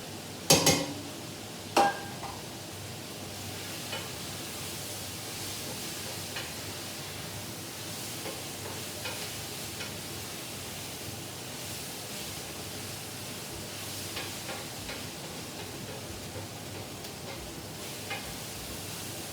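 Spices being stirred into a pot of stew, two clanks of a utensil against the pot at the start, then a soft, steady scraping and rustling hiss with faint intermittent taps, no speech.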